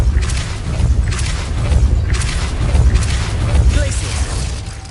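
In Hogwarts Legacy, the Depulso spell is cast amid dense, continuous game action, with repeated whooshing bursts and low booms layered over a loud, busy background.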